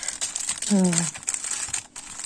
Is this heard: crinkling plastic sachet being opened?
yes